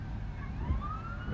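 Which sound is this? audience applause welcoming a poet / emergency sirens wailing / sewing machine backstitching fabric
emergency sirens wailing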